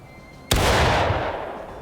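A single loud rifle shot fires in the video game War of Rights, seen in third person. It cracks sharply and then fades in a long rumbling tail, with no voices.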